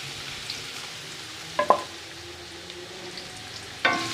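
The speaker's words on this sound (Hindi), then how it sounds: "आपने इनको हल्का फ्राई करना है, ज़्यादा ब्राउन नहीं करना।" Sliced rounds of onion frying lightly in ghee give a soft, steady sizzle, quiet and close, broken by a couple of brief stirring clacks near the middle and again near the end.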